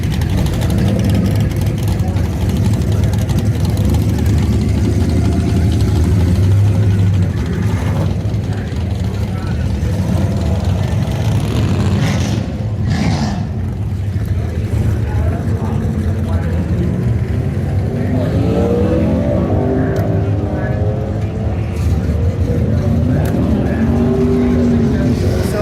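At Northern Michigan Dragway in Kaleva, Michigan, during a drag-and-drive hot rod event, engines rumble and roar loudly and continuously, with cars revving and passing nearby and people talking under the noise.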